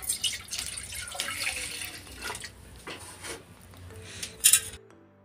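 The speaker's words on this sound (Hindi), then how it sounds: "जितना दूध आप बनाओ उतना नाप के गिलास में डाल लो" Milk poured from a pan into measuring glasses in a home kitchen, a steady liquid trickle and splashing running for about five seconds before stopping abruptly.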